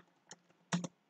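Quiet keystrokes on a computer keyboard: a single soft click followed by a quick pair of taps in a brief, close burst.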